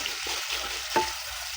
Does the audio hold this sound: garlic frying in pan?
yes